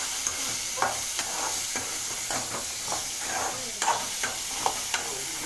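Ingredients stir-fry on high flame with a loud, constant sizzling hiss, broken by quick scraping strokes of a spatula against the pan every second or so, close and steady.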